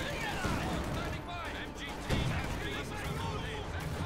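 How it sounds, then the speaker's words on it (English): Mortar fire in a Company of Heroes 2 multiplayer match, thudding blasts mixed with scattered gunfire and battle noise, all running under continuous commentary talk. "His mortar still firing away"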